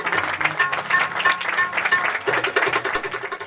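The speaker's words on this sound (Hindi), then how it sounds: "आए खुदा के रूह के लिए भरपूर ताली बजाएंगे।" Congregation at a Sunday evangelical church meeting claps together, dense, steady applause filling the room for a few seconds with faint musical tones underneath.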